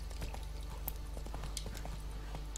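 Horse hooves clip-clop in a steady, rhythmic trot in the video game The Witcher 3, heard as a close, moderately loud series of hoofbeats over a low ambient hum.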